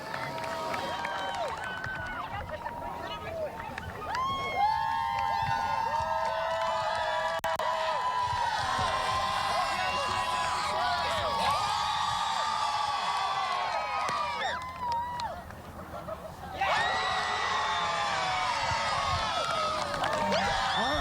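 A crowd cheers and whoops at a Friday Morning Lights morning TV broadcast, a loud sustained roar of many voices that dips briefly near the end and then surges back.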